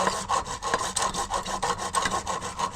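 Hand saw cutting through a plastic sewer drain pipe cover during a shared-pipe leak repair, steady rapid back-and-forth rasping strokes, close and loud with no talk.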